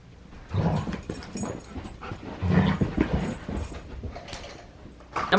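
A dog playing soccer outdoors, panting and giving small whimpers close by in uneven bursts, with light patter of movement and no talking.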